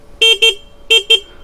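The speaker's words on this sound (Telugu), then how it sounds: "హార్న్ వినిపిస్తాను," Horn of a Hero Xtreme 125R 125cc motorcycle, sounded in two quick double blasts: two short loud toots, a pause, then two more, clear and close with no talk.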